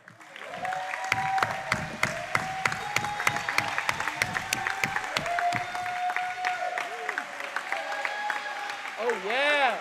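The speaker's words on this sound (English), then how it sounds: "Let's give a warm round of applause for Caleb Cole" Crowd applause and cheering for a player at a high school basketball senior night, Southern Prep vs. Southern Christian, clapping sustained under an announcer's amplified voice in a reverberant gym, with a few sharp claps standing out.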